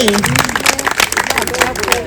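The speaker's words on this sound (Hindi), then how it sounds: "जोर की ताली" An audience at the Humjoli Deepotsav event claps loudly in a rapid, uneven burst of many hands, with a voice speaking over the applause throughout.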